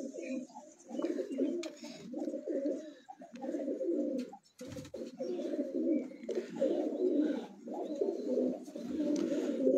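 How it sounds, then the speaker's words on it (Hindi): Pigeons on a rooftop coo in low, repeated, rolling phrases that run almost without pause. The calls are fairly quiet but close, with one brief dip in the middle. "ये जी अली वाला कबूतर है हमारा माशाल्लाह मेन बड़ा कबूतर।"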